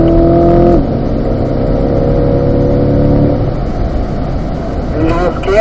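A car at full throttle in 5th gear on the Spring Mountain race track during a performance driving school session, its engine note steady and loud, briefly climbing, under constant talk from the driver.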